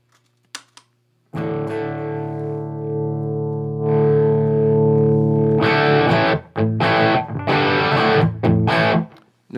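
Electric guitar through a JHS Angry Charlie overdrive pedal at low drive: a long sustained chord rings out, then choppier strummed chords and short stabs with gritty, mildly distorted tone, no voices.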